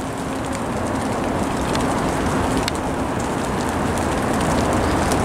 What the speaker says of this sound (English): It's raining on us.